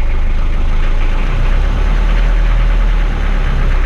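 A 1993 Daihatsu Rugger F78 turbo diesel 4x4 idles just after starting, with a loud, steady, close-up diesel clatter and deep rumble that holds throughout, with no voices.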